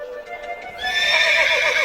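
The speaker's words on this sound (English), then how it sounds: "With his racehorse, Incitatus." A racehorse whinnies loudly and close by, a rising, wavering neigh that swells and holds, with faint hoof clip-clop underneath.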